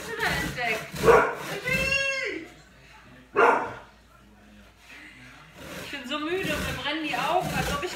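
A dog gives a few close, sharp barks and yips in separate bursts inside a house, with a person talking between and over them.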